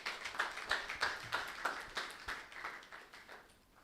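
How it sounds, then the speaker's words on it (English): A small audience at a public policy forum on accountability and creative storytelling claps for itself, a sparse, fairly faint patter of individual claps at an even pace that gradually thins out. "so clap for yourselves."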